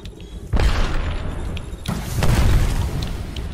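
Gunfire in the video game Apex Legends: heavy booming shots open with a sharp thud, and a second burst follows, forming a loud, dense, rumbling stretch of fire.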